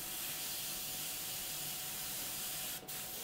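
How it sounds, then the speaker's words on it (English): Airbrush spraying model paint with the air pressure turned well down, a steady soft hiss running throughout with one brief louder burst near the end, close and alone. "So you can probably hear we're hardly using any sort of spraying pressures at all."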